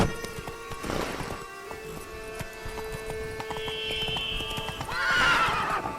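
A horse in the video game The Witcher 3: Wild Hunt, Blood and Wine, clip-clops at a steady gallop, then lets out a loud whinny near the end.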